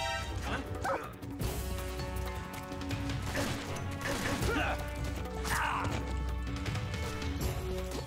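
A dog barks repeatedly in the Metal Gear Solid 3 video game, sharp yips and whimpers over game music and mechanical effects.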